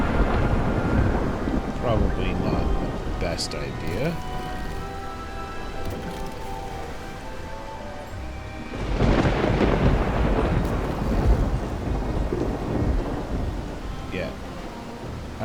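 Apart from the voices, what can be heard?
thunderstorm at sea in Bannerlord WarSails video game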